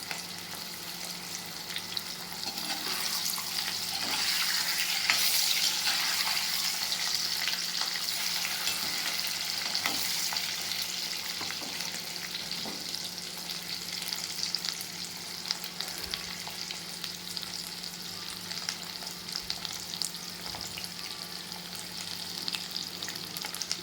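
Potatoes frying in a pan for a potato egg curry give off a continuous bright sizzle with occasional stirring scrapes, steady and close for the whole stretch.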